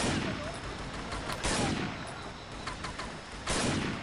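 Gunfire in the video game Combat Task Force 121, sharp shots and crackling bursts over a dense, noisy battle background, with louder reports standing out at intervals.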